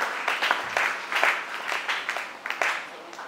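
A church congregation breaks into warm applause after a Bible reading about the parable of unlimited forgiveness, with many hands clapping steadily at a fairly close, full level for several seconds.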